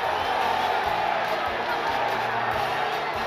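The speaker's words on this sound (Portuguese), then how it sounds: "A torcida tricolor comemora em São Januário" São Paulo supporters roar after a goal at São Januário stadium, a dense, continuous crowd cheer holding steady throughout with a commentator's voice underneath.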